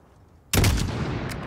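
Call of Duty: Modern Warfare (2019) rifle gunfire, a single loud, sharp shot bursting out of near silence and leaving a long, rumbling echo tail.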